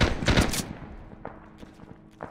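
Burst of rapid automatic gunfire in the Arma 3 military shooter, several loud close shots in quick succession at the start, then fainter scattered single shots trailing off in the distance.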